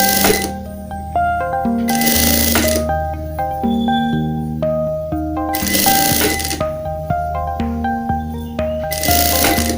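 A sewing machine stitches cardigan fabric in short runs, its fast mechanical whirring rising and stopping repeatedly over a background of steady tonal music.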